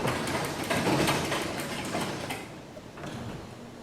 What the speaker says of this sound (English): You can hear rubbing on the chain